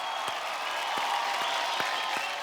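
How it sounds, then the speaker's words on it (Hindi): Audience applause on a TV talent show stage, a steady wash of many hands clapping at moderate distance with a few sharper claps standing out. "जोरदार तालियां हो जाए भाई।"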